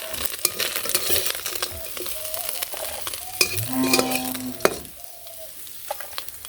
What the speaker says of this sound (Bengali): তো এই যে এই মাছটিও উল্টে পাল্টে ভেজে নিলাম।